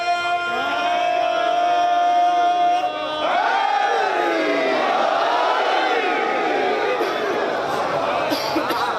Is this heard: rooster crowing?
no